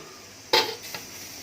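A costly AMC cooking pot set down with a single sharp metallic clank, followed by a fainter second knock, in a quiet kitchen.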